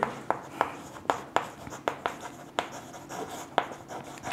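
Pen strokes on paper as someone writes out a math answer by hand in a class 6 lesson. Close, crisp taps and scratches come in an uneven rhythm, about a dozen of them, with no talk over them.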